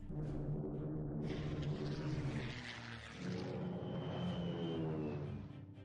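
World War II bomber aircraft droning in a strategy game, a steady propeller engine hum that swells and dips slightly while a bombing attack plays out.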